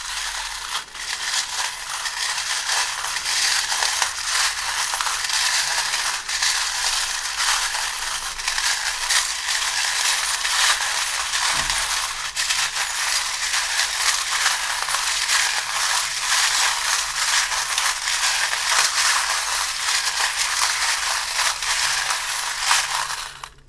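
Small tarot-reading charms are shaken and cast, giving a steady, bright, close rattling clatter that runs nearly unbroken for the whole stretch, with no talk over it.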